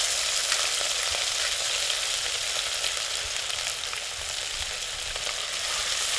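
Garlic and ginger frying in hot oil in a pan make a loud, dense, unbroken sizzle that stays even and close for several seconds, with no talking.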